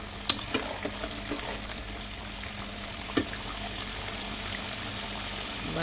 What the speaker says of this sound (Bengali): বারবার মাংসটা খাইতে নেড়ে করে দিচ্ছি যাতে তলানিতে ধরে না যায়